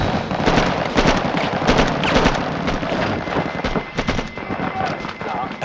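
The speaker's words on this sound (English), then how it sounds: "At the sound of gunfire" Gunfire from an Iraqi patrol firefight crackles in rapid bursts and scattered cracks, dense and continuous throughout, with wind buffeting the microphone.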